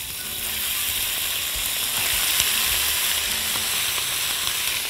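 Meat with spices fries in a large spoonful of hot oil, producing a loud, continuous hissing sizzle that holds steady, with a few soft knocks underneath.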